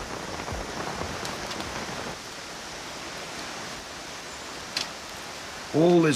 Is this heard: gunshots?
no